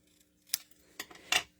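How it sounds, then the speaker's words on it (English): Scissors snip along the edges of paper cardstock in a stamping craft project, giving three short, crisp cuts spaced apart, close and fairly quiet in an otherwise still room. "And then we'll snip these edges to match."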